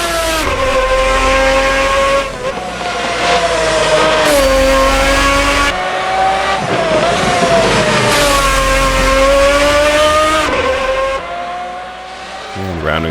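A race car in a racing video game accelerates hard down a straight, its loud engine climbing in pitch through several gear changes with brief drops between shifts, while someone talks over the engine.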